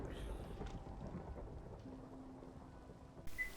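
Rain falls steadily in Minecraft while a low rumble of thunder from lightning rolls underneath, distant and moderate, with a brief sharper crackle near the end.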